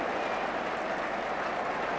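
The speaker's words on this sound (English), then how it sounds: "Applause ringing round Craven Cottage." A football crowd at Craven Cottage applauding in 1984, a steady, even roar of clapping and crowd noise heard from a distance, with no distinct individual claps.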